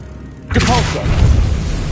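Depulso force spell cast in Hogwarts Legacy, a sudden loud whooshing boom that bursts in and then rolls on as a rumbling blast for over a second.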